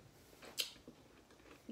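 Someone chews a soft chocolate mint cookie close to the mic, a few quiet moist bites and squishy mouth sounds with one brief sharper crunch near the start.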